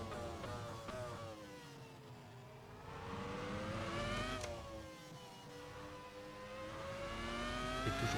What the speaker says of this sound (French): Et toujours ce son aussi agréable des V10 quand il prend des tours